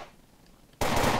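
AK rifle fired in the zombie shooter Fort Zombie: after a quiet moment, a sudden loud burst of rapid automatic fire sounds close up and keeps going to the end.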